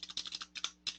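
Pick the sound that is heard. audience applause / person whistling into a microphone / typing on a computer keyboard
typing on a computer keyboard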